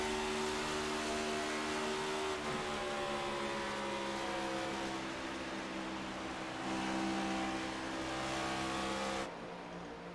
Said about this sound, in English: It almost to me sounds like they're trying to feather the throttle into the turn